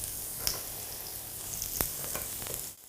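Two onions sautéing in hot clarified butter give a faint, steady sizzle with a few sharp clicks and pan knocks, heard close with no talk.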